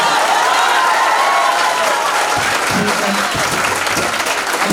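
A crowd of students at a chemistry class gives loud, steady applause, dense clapping that fills the clip from start to end, close and sustained.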